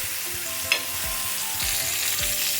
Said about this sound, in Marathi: एक एक करून मिरची नंतर कांदा भाजूया.